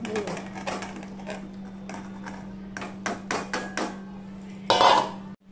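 Cut, washed gathi kochu (taro) pieces tumble into a metal dal pot with scattered clatters and knocks against the vessel, ending in a louder rattling burst, over a steady low stove hum.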